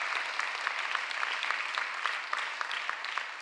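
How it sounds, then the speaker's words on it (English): An audience applauds two U.S. senators, Dave McCormick and John Fetterman, at Philadelphia's State of the City address, a steady dense wash of clapping from many hands throughout. "Give them both a huge round of applause."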